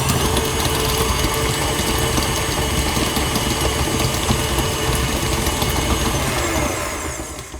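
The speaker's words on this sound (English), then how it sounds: "we're going to cream the cream cheese here in the stand mixer" Stand mixer creaming cream cheese, a steady close mechanical whir and rattle from the motor and gears running continuously, then tapering off at the end.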